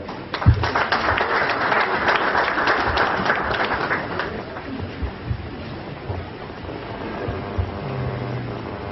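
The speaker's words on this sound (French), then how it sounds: "Sous vos applaudissements, mesdames et messieurs" Audience at a fibre network launch ceremony in Mauritius applauds, a full burst of clapping that thins gradually, with a voice talking through the later part.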